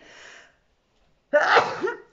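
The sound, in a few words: sneeze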